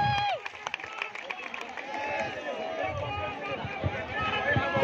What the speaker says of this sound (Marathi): तुमच्यासाठी टाळ्यांचा.